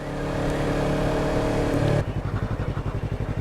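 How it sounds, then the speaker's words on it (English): A motorcycle ridden slowly with heavy engine braking: a steady loud engine drone, then after the throttle closes a rapid pulsing burble of loping exhaust beats, close and alone. "I'm using a lot of engine braking right now."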